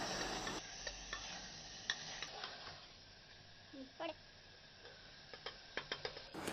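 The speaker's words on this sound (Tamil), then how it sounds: "இப்போ சிக்கனில் நல்லா மசாலாலாம் சேர்கிற மாதிரி நல்லா கலந்து விடலாம்." Chicken being stirred with masala in a pressure cooker, with faint scattered scrapes and clinks of the spoon against the pot over a low background hiss, fairly quiet and close.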